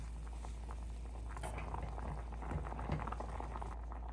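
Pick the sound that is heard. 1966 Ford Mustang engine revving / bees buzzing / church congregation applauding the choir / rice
rice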